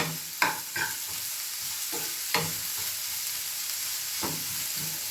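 Onions softening in a pan sizzle softly under several distinct scrapes and knocks of a spatula stirring them, close with no talk.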